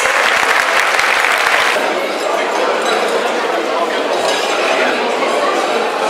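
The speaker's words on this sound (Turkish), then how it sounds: "şöyle coşkun bir alkış istiyoruz" Loud, enthusiastic crowd applause at an outdoor anniversary ceremony for the liberation of Araklı, a dense continuous roar of clapping with sharper claps early on, holding steady for the full length.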